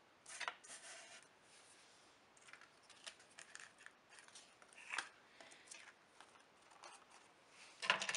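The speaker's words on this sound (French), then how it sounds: "je pose mon tissu et je viens couper ce qui dépasse par la suite" Scissors snip through excess fabric for a small folding organiser, giving a run of quiet, close, crisp cuts in an irregular rhythm, with light paper-and-cloth handling between them and a louder snip at the end.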